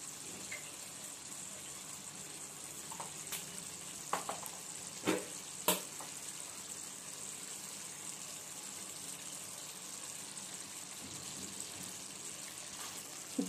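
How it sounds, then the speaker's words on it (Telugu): Native country chicken curry gets stirred in a pan, a quiet low sizzle with scattered spoon knocks and scrapes through a long stretch. "ఉప్పు కారం వేసుకున్నాం కదండి ఒకసారి కలుపుకోండి"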